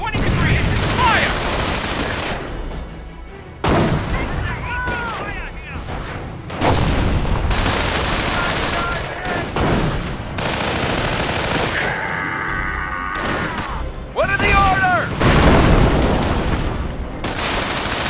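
Tank cannon and machine-gun fire in the video game Company of Heroes: dense, continuous fusillades with heavy booms and explosions throughout, mixed with soldiers shouting over the din.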